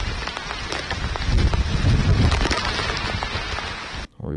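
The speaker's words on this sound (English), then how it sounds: "see how the rain's really coming down. This was a thunderstorm." Heavy thunderstorm rain pours down in a dense, continuous hiss on surfaces, with a low rumble swelling midway, loud and steady without voices until it cuts off abruptly near the end.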